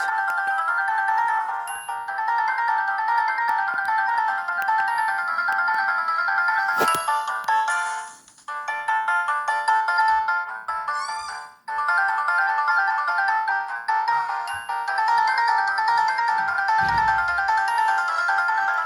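Samsung GT-E1272 ringtones play from a Newmind F15 flip phone, a bright, steady electronic melody with brief dips and a short click partway through, heard alone and close.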